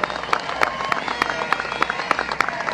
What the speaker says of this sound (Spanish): Vamos a darle un aplauso al Padre Roja